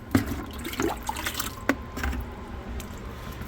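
Water drips and trickles over tumbled rocks in a container, with a few distinct splashy drops and a soft running-water wash, close and fairly quiet.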